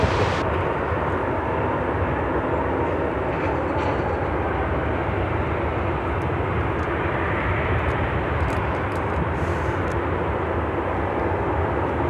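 An Atlas Air Boeing 747 takes off at Chicago O'Hare, a loud, steady jet engine roar filling the air continuously throughout, broad and rumbling with no voices.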